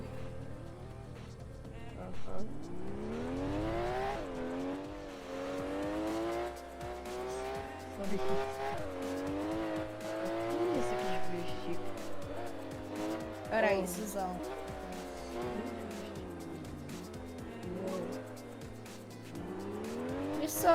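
Cars racing in a Roblox street race, engines revving up and down in repeated sweeping pitches with occasional tire squeals, loud and continuous throughout.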